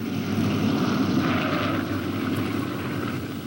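A World War II B-17 bomber comes in to land, its piston engines and propellers giving a steady, loud droning roar that holds evenly through the whole stretch with no voices over it.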